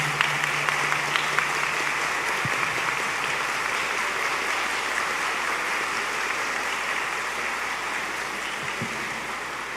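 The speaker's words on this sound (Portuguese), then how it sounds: "Eu peço a todos então uma salva de palmas em agradecimento ao cônego Luzair." A church congregation applauds in a steady wash of clapping that stays even throughout, with a faint low hum underneath.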